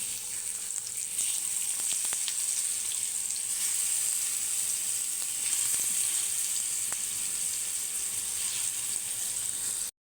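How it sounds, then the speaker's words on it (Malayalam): Eggplant slices frying in hot oil give a steady, even sizzle for the whole stretch, with a few faint clicks and small pops on top and no voices. "എണ്ണ ചൂടായിട്ടുണ്ട്. നമുക്കിതിനി ഓരോന്ന് വറക്കി ഇടാം."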